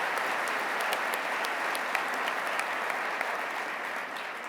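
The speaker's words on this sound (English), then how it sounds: "Let's give them a round of applause on this beautiful new convention center" A crowd at a regional economic development awards event in Albany applauds the new convention center, a loud, sustained wall of clapping with a few sharper individual claps standing out near the listener.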